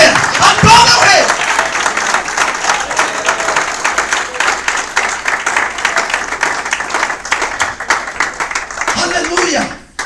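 A church congregation claps and applauds in a loud sustained burst, crowd voices and cheers mixed in throughout, fading abruptly near the end.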